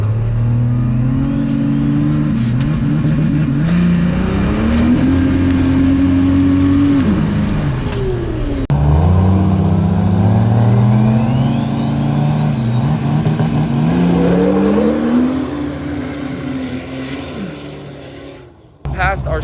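At a King of the Street 2023 street drag race, a truck engine revs loud and close in long rising and falling pulls, holding high then climbing again before dropping off, with voices faintly underneath.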